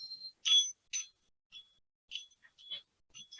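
Chimes made from old telephone bells ring in a few sparse, bright metallic strikes, each a clear ping that fades quickly, heard alone in a quiet room.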